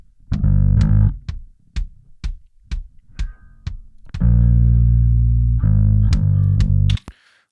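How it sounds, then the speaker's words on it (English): A distorted bass track in an indie rock mix, band-limited so only the midrange breaks up, plays as short gritty plucked notes in a steady rhythm, then as long sustained buzzing notes, loud and alone. "After that, I have my distortion track, but it's band limited, so only the mid-range is distorted."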